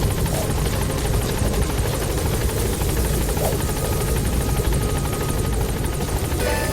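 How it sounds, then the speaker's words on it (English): The support helicopter in Metal Gear Solid 5 arrives, its rotor beating in a loud, continuous, steady thrum that fills the scene without letting up. "Support helicopter has arrived."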